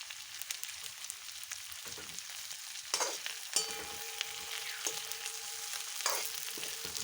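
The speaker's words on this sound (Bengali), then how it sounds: "ভালো করে নাড়াচাড়া করে ভেজে নেব" Chopped cauliflower and leftover fish fry in a pan, stirred steadily, giving a continuous crackling sizzle broken by sharp scraping strokes of the spatula at intervals, close and moderately loud, with no talking.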